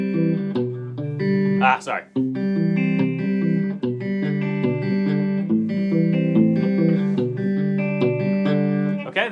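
Fingerpicked acoustic guitar in a Travis-picking pattern, with a steady alternating bass and ringing treble notes played close and clear; a voice briefly speaks over it.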